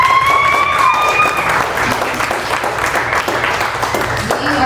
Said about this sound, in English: Can we give our helpers in the church just a big round of applause?